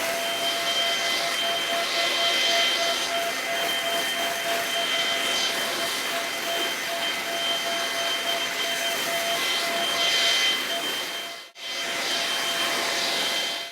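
Stihl BGA 57 cordless leaf blower run over wet beech leaves, a loud continuous whooshing fan roar with slight surges, cutting out briefly before restarting.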